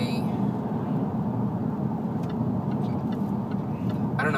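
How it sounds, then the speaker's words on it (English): A 2012 Jaguar XF with a naturally aspirated V8 drones steadily from inside the cabin while driving, a low even engine growl with road noise and no pauses. "It's just one of the nicer noises to listen to from an engine."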